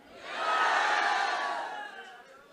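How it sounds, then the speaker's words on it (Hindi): A group of older adults cheers and claps together at a senior team gathering, a broad crowd roar that swells early, holds steady and then fades toward the end, with no talk over it. "तालियां हो जाए सभी के लिए, शाबाश।"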